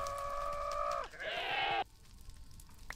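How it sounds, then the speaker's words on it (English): A goat in the Minecraft modpack FTB Skies Expert lets out a loud, close, wavering bleat that rises in pitch partway through and then cuts off, followed by quiet background hiss. "There's a goat."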